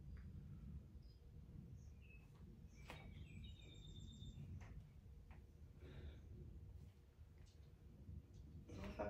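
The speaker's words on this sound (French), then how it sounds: "Je ne sais pas si vous entendez les petits oiseaux" Small birds sing outdoors on a sports field, giving faint, scattered chirps and tweets over a steady low background rumble, with no talking.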